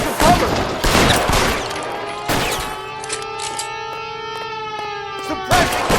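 Bursts of gunfire crackle in the L.A. Noire video game, loud shots at the start and again near the end, with a sustained siren-like wail and tonal game music holding through the middle.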